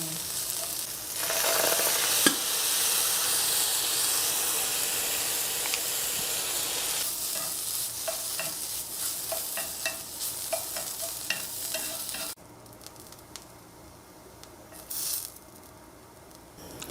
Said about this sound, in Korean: 어쨌든 진간장에 조금 볶겠습니다